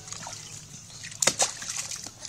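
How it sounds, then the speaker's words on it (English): A child splashes water in a swimming pool, with a quick burst of two close splashes midway through an otherwise quiet stretch of lapping water. "Go on, big splash."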